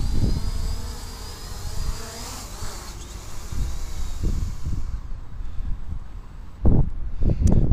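A ZLRC SG906 Pro2 drone flying in to land over tall grass outdoors, its steady high buzzing whine close by under wind noise, with a few low thumps near the end.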